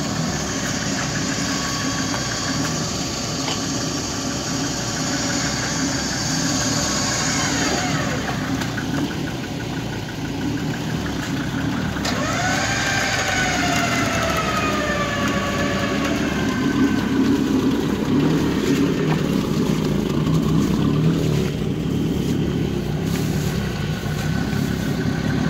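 UAZ off-road vehicles stuck on a riverbank rev their engines in a steady, loud mid-range drone, with the pitch rising and sliding as the motors strain.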